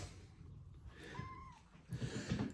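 A small kitten lets out one faint, short rising meow amid quiet background noise, with a little rustling afterward.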